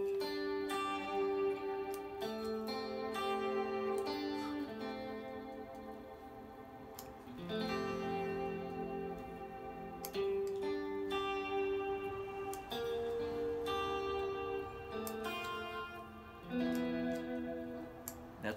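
An Albert Lee model electric guitar plays a slow melodic line through a shimmer effect. Sustained ringing notes and chords blend into a continuous wash, heard alone for the full length.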